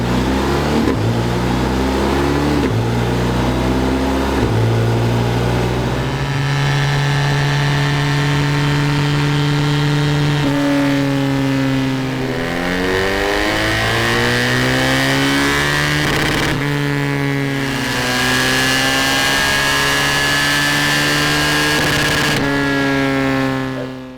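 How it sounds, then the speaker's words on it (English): A BMW R1250 RT motorcycle engine on a dyno revs repeatedly, rising through the gears in long loud sweeps with a droning exhaust tone, close and continuous. "We're going to run it up on the dyno, see exactly what BMW have done to it"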